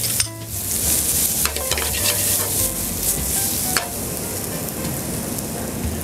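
Onions sizzle and fry in a pot with fresh sage, cinnamon, nutmeg and cloves, a steady crackling hiss broken by stirring scrapes and clanks, loud and close with no voices.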